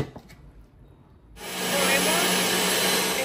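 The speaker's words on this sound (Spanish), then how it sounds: "voy a ponerlos en la licuadora para moler" After a brief quiet moment, a blender starts up suddenly and whirs loudly and steadily, blending pineapple, watermelon and melon with sugar and water.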